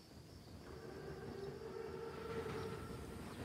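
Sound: armored train (Panzerzug) running, from video game Call of Duty WW2

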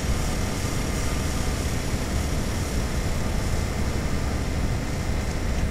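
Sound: airplane flying after takeoff in a video game

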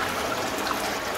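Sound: freshly cold-pressed oil being poured

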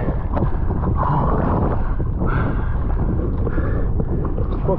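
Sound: strong wind while wing foiling on water

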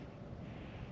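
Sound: wind blowing

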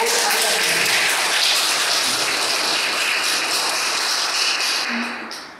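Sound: audience applause

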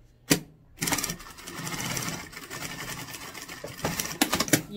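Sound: sewing machine stitching a fabric seam

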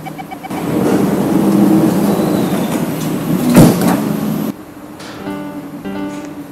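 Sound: train doors closing

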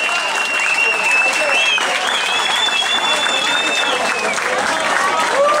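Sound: audience applause at award ceremony

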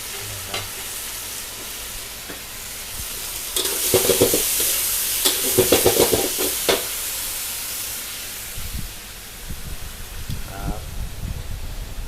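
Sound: stir-frying in hot wok

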